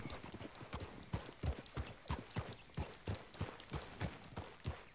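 Horse hooves clip-clop at a steady trot in Red Dead Redemption 2, a regular, faint rhythm of evenly spaced hoof strikes with no talk over it.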